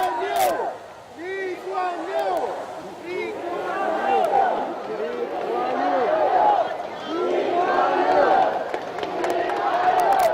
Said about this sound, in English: you can hear the crowds crying out his name, Lee Kuan Yew, as the cortege passes by